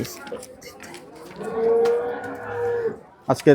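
A cow at a cattle market in Rajshahi gives a long, drawn-out moo at close range, followed by a second shorter call, with faint background voices and movement.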